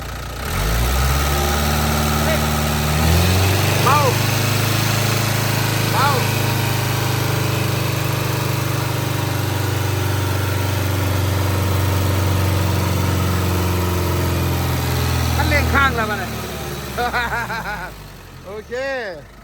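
A Nissan four-cylinder engine of about 100 horsepower, mounted on an old rice mill, idles loudly with a steady throbbing drone for most of the time, while voices talk over it, then settles near the end.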